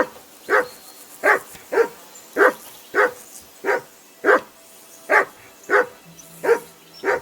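A dog barks in the video game Kingdom Come Deliverance II, a regular series of about a dozen single barks spaced roughly half a second apart, clear and fairly close, with quiet background between them.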